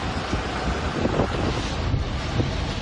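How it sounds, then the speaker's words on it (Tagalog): Strong sea waves pound the shore at Dimasalang, a continuous, loud, rough roar with heavy gusting wind noise over it and no voices. "Malalakas na hampas ng alon ang bumungad din sa mga taga-Dimasalang."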